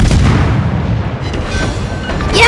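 A cruiser blows up with a massive explosion in the naval combat game World of Warships, a loud, sustained, rumbling roar that fills the whole stretch and swells again at the end.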